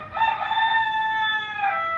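A rooster crows loudly and close, one long sustained call with no other sounds around it.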